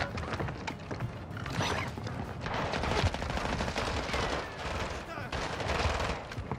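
Gunfire in the video game Warzone: dense, overlapping automatic bursts and single shots crackle continuously at moderate loudness, with a few heavier thuds mixed in.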